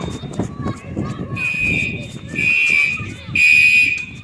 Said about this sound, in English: Fire alarm, y'all can hear.